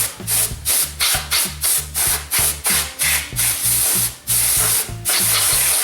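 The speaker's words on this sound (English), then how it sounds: "what you're gonna do now is just take your dust remover and dust everything up." A can of compressed-air dust remover blasts across an NES motherboard in a quick series of short, sharp hissing bursts, close and loud, ending in a couple of longer sprays.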